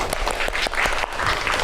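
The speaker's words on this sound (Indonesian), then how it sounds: "Beri tepuk tangan" Brief clapping in a classroom during a teacher's lesson, scattered students' claps in an irregular patter, moderately near and not very loud.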